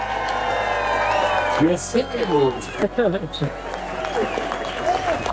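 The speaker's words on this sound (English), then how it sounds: "I just got a clap." Audience claps and cheers at a live pop-up event stage, a moderate wash of applause running beneath someone speaking clearly over it, with a brief whoop partway through.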